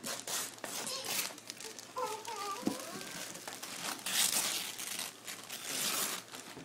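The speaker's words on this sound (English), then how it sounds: "Tear the paper off. Rip it." A child tears and crinkles wrapping paper off a birthday present at a party, with steady rustling and ripping close by and people talking faintly in the background.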